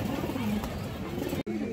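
A pigeon, a female offered at a bird sale, coos in low repeated throaty rolls, close and steady, with people talking nearby.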